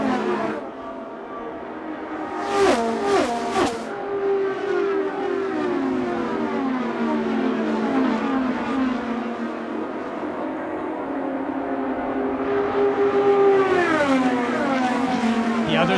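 IndyCar race cars at the 102nd Indianapolis 500 scream past in bursts, engines whining with rising and falling pitch as cars approach and pass, a sustained howl building again near the end.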